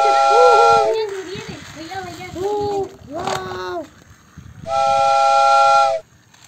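A battery-powered toy train runs and sounds its bright electronic whistle in two loud bursts, with children talking excitedly close by in between.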